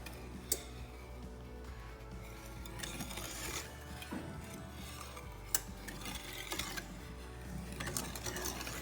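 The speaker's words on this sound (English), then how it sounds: "you want to give it a constant stir as you're cooking it" A spoon stirs chocolate gravy in a pot on the stove, giving soft, steady scraping and clicking taps that repeat close by at a low level with no talking.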